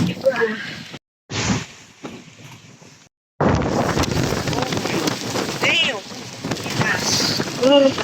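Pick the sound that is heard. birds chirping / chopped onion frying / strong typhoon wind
strong typhoon wind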